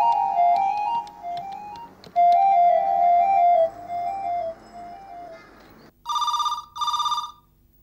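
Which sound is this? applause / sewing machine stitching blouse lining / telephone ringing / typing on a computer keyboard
telephone ringing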